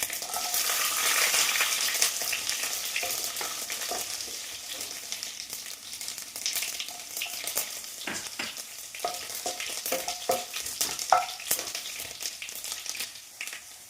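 Whole small onions and garlic frying with popping mustard seeds in hot oil, a steady loud sizzle with crackles and occasional stirring scrapes throughout, no voices.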